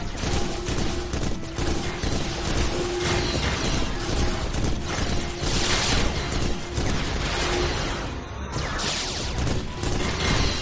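Sniper fire and dense gunfire from the video game Dyna Marisa 3D, a continuous loud clatter of shots and mechanical clicks with no pause over about ten seconds.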